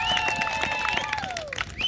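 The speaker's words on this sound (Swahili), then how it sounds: "Piga makofi kwa ajili yake." Church congregation clapping in rhythm, with the claps blended into loud, sustained singing and music that carries over them throughout.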